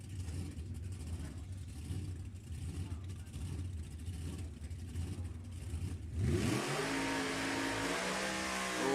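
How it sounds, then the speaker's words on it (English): A drag racing car with a supercharged blower does a burnout at an NHRA Summit Racing Series Division 7 bracket race, its engine rumbling steadily then surging into a loud, sustained roar near the end as an announcer talks over it. "564 the dial-in with the John Force burnout as always"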